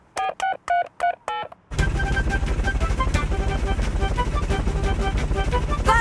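Telephone dialing tones in a cartoon, five short, evenly spaced beeps of a number being dialed, then a sudden loud, dense wash of background sound that runs on steadily.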